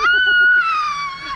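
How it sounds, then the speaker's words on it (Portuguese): A person screams while riding down an amusement park ride at a free park set up inside a crowded shopping mall, a loud, sustained high-pitched cry that stretches on for over a second. "vai dar um grito."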